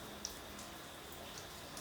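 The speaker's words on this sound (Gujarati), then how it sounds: "હવે વરસાદ ચાલુ છે ઝીણો ઝીણો." A light, fine drizzle falls in a steady, soft hiss with faint scattered drops, quiet and even throughout the short stretch.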